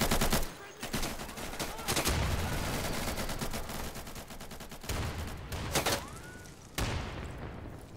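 Rapid gunfire in the Insurgency shooter, sustained bursts of sharp automatic shots with short pauses between volleys, fairly loud and close.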